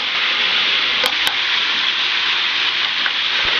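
Onions and crushed garlic sizzle steadily in a pan while being stirred, a loud, continuous frying hiss with a couple of faint clicks from the utensil.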